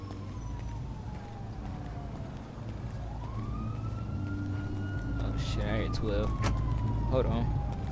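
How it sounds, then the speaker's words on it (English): Police car siren in a video game roleplay, a rising and falling wail sweeping up and down over a rumbling engine, joined by quicker warbling yelps toward the end, growing somewhat louder. "Sirens."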